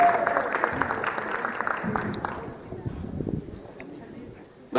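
An audience applauds three speakers at an Indonesian event, a dense steady clapping that gradually thins out and fades toward the end, with voices in the background.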